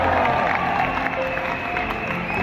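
Applause and cheering from a crowd at a product launch event for herbal Ayurvedic medicines, a dense steady wash of clapping with some whoops, loud throughout.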